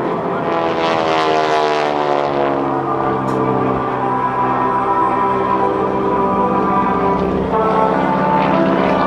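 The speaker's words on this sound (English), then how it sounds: "To those who served, this airplane, built for World War II to train pilots" A World War II T-6 advanced trainer propeller airplane drones loudly overhead at a naval air station airshow, its steady engine hum shifting in pitch as it passes.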